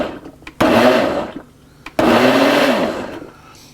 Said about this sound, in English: I'm only going to pulse this blender about 3 times on low.